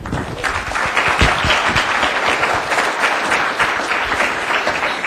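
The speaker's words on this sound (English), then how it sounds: "I don't know if I've ever received such an applause before" A large audience applauds a speaker being welcomed to the stage, dense steady clapping that stays loud and even for the whole stretch with no talk over it.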